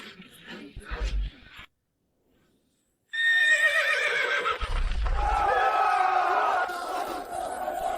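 Horses neighing in a battle scene as bears maul them, shrill whinnies rising over a loud crowd of shouting soldiers, preceded by a brief burst of clamor and a short silence.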